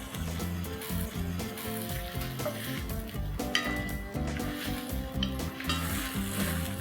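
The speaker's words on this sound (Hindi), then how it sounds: "टमाटर को करीबन 5 से 7 मिनट तक कुक कर लेंगे, जब तक ये एकदम मशी नहीं हो जाए।" Tomatoes cooking in a pan for soup, with basil leaves added, a steady low sizzle and bubbling, with occasional light clinks of a utensil, no talking.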